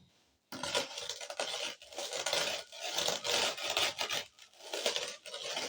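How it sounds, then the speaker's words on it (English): Local sugar is crushed under a rolling pin, producing a continuous close gritty rubbing and grinding that pulses with each back-and-forth stroke and has no talk over it. "I have to use the rolling pin to grind the sugar"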